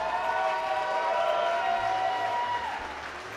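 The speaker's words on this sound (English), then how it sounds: "I know you've just clapped, but one more for the competitors." An audience claps for competitors at a barista and latte art preliminary round, a steady wash of clapping that holds at an even level throughout, with no voices heard.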